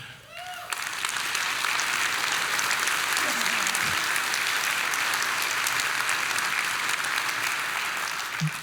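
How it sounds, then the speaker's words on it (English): A large audience at a county event applauds honoured judges with sustained, dense clapping that swells quickly after a brief voice and holds steady for several seconds in a big room. "we're going to give you a special applause"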